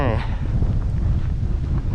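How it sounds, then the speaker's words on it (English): Strong gusts buffet the microphone beside a lake on a fishing outing, a loud, continuous low rumble of wind noise with no break. "Hella windy. Super windy, dude."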